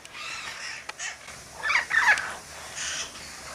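Amazon parrot at a rescue giving harsh, raspy calls in a short burst, fairly close and loud over faint background noise.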